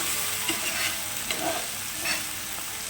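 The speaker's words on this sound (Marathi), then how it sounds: "आपण ही सतत हलवत ही चटणी अशी परतायची" Garlic chutney roasts in oil while being stirred continuously, a steady close sizzle with soft scrapes of the spoon rising and falling every second or so.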